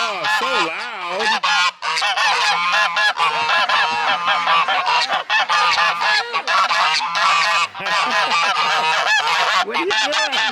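Canada geese honk loudly and continuously at close range, a dense, overlapping chorus of harsh, nasal calls with brief gaps, filling the whole stretch.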